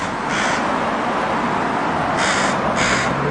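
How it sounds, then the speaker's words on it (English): Crows cawing at a street corner at Granville and Balfour: a few harsh caws in two bursts, one early and a pair near the end, over steady broadband outdoor background noise. "those crows recognize that I guess I'm not from around here"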